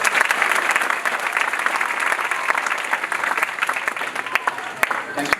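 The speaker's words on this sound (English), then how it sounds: "Can we all clap our hands?" An audience at a school recognition ceremony claps in dense, sustained applause that fills the hall, with a voice faintly audible beneath the clapping.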